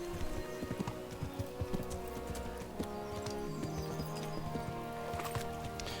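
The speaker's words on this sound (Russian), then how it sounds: "Кузнец на лошади." Horse hooves clip-clop in a steady, close, fairly quiet rhythm as a blacksmith rides past in the medieval game Kingdom Come: Deliverance.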